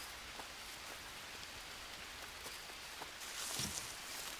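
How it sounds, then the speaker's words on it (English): Rain falls steadily in the Green Hell jungle survival game, a quiet continuous hiss of drops on leaves and ground with a few soft patters, no voices. "It would rain again, wouldn't it?"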